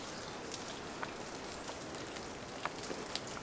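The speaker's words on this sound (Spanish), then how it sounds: "está lloviendo" Steady rain patters softly on a surface, an even hiss broken by occasional individual drops, with no voices.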